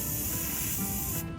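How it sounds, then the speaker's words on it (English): Steady aerosol spray hissing onto a rusty, sludge-coated engine camshaft, a continuous close broadband spray that cuts off near the end. "I'm going to spray down that camshaft, maybe help it get out too."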